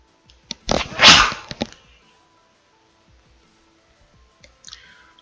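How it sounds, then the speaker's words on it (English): A single loud, close sneeze bursts out sharply, followed by a few small clicks and a faint later breath sound in an otherwise quiet room. "Sneeze not fun."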